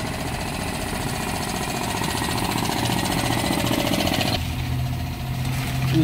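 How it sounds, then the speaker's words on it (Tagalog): An Isuzu Forward truck's 6HH1 diesel engine runs at a steady, loud, rapid idle clatter throughout, with a brief shift in tone near the end. "So, ito yung engine ng 6HH1"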